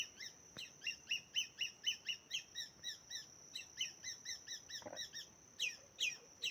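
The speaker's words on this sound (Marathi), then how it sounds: "ही खारुताई पक्ष्यांना प्राण्यांना जागे करते बघा अशा पद्धतीने ती कोकत आहे" A squirrel in a forest gives an alarm call: a faint, rapid series of sharp, regularly spaced chirps repeating about three times per second, with a brief pause midway.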